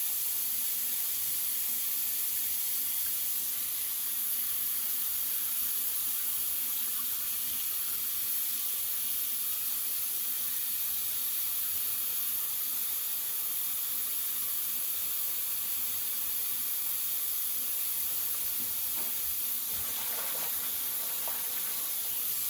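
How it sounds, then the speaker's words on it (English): Water pours steadily from a tap or shower as hair colour is rinsed out, a close, even hiss that holds for over twenty seconds with no one speaking. "Let's get ready to rinse this color out of our hair."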